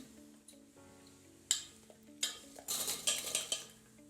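Potatoes tumble into an air fryer's frying drum with clattering, rustling bursts and light metallic clinks, coming in quick uneven pours after a quieter start.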